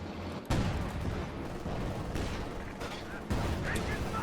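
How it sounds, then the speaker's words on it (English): A Pak anti-tank gun firing at motor carriages in Company of Heroes 2, sounding as loud cracking shots over a constant din of battle, with faint talk running underneath. "Pack gun trying to take some shots there at the motor carriages"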